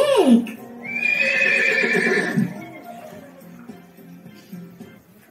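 A horse neighs loudly and close up, a long quavering whinny that rises, holds and trails off, followed by fainter snorting and low breathy sounds.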